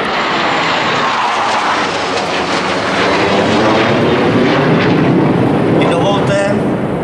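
Military fighter jets roar overhead above Kolín at a public event, a loud, sustained broadband engine rumble that fills the whole stretch, with crowd voices faintly beneath.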